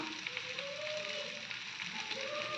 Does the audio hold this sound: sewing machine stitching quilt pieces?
no